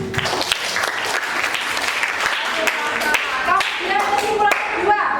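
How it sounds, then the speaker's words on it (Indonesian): An audience in a classroom lesson bursts into steady clapping, a dense patter of many hands that keeps going at an even level for several seconds. "Kita beri aplaus."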